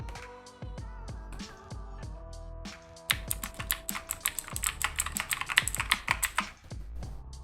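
Keys clatter on a cheap Amazon gaming keyboard, close and crisp, as sparse individual presses give way to a rapid, dense burst of typing in the second half. No voice is heard.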